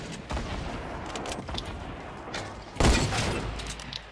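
Distant gunfire in the Fortnite battle royale game, scattered muffled shots with a louder burst near the end, heard faintly over a low background rumble.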